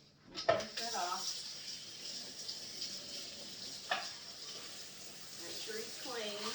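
Tap water runs over a microwave cover being rinsed in a home kitchen sink, a soft steady gush with a few clattering knocks of the plastic lid, fairly quiet and without talk.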